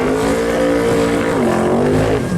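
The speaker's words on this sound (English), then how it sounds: "600 cubic inch engine in that red Corvette" A red twin-turbo big-block Corvette with a 600 cubic inch engine roars loudly and close at a no-prep drag race at North Weald, a dense continuous engine note rising and shifting in pitch as it revs.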